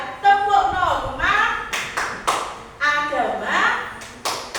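A class runs through the rhythmic Indonesian clapping game tepuk norma, sharp clap bursts falling in patterned groups between sung or chanted voices, close and fairly loud.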